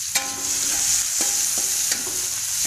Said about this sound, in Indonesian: Tumis bahan-bahannya bawang putih, bawang merah, cabai rawit